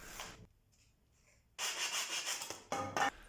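A wooden base for a home-made kick drum trigger being worked, with short bursts of rasping cuts after a quiet pause, close and fairly soft.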